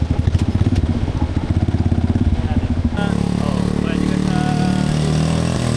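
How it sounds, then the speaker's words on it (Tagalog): A motorcycle engine chugs in rapid, pulsing beats, then shifts to a steadier, smoother drone partway through, close and loud. "Malakas naman ata yung motor eh."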